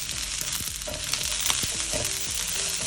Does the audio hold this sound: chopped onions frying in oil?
yes